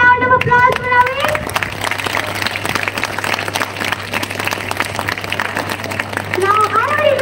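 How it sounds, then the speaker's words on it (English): Audience at a literature festival breaking into sustained applause, dense steady clapping from a room full of people, with a voice briefly audible at the start and end. "can we have a big round of applause for Avik?"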